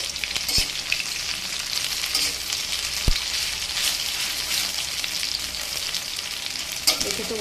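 Banana flower and kidney bean fritters sizzle steadily in hot oil in a pan, a continuous close frying hiss broken by a few sharp taps of the spatula.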